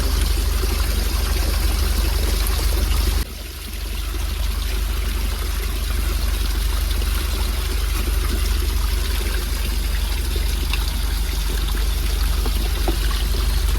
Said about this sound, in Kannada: ನೀರು ನೋಡಿ ಫೋರ್ಸಾಗಿ ಬರ್ತಿದೆ